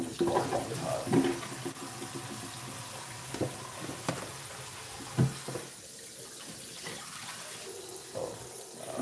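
Tap water running into a sink while dishes are washed, a steady soft flow with occasional clinks and knocks of dishware, fairly quiet and continuous.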